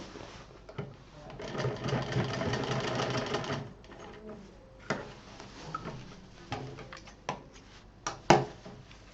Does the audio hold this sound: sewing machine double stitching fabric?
yes